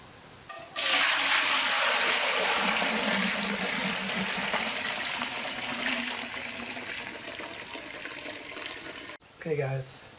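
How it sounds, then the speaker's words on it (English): Water pours steadily and loudly into a home brew pre-boil kettle for an all-grain light lager, a continuous rushing stream that eases slightly before cutting off near the end, followed by a brief bit of talk. "what I'm doing is I'm adding some water to my pre-boil"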